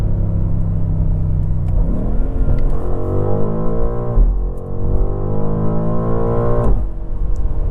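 A 2024 BMW M8 Gran Coupe's 617-horsepower engine roars loudly and close as it accelerates hard. The revs climb steeply through repeated gear changes, with each shift giving a brief dip before the pitch rises again.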